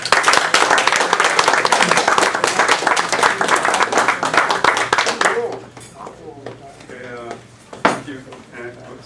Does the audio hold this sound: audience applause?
yes